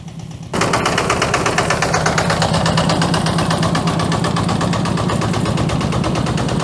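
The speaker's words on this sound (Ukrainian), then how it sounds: "Їде, їде, щось їде до нас" A tractor engine, one of two coming toward a potato field for digging, rumbles in abruptly and then keeps a loud, steady, close throb with a rapid chugging pulse.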